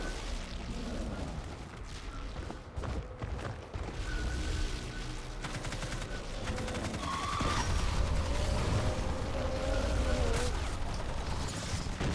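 Rapid gunfire from a sentry gun in the video game Evolve, heard as a steady rattling stream of shots under a busy mix of booms and game effects.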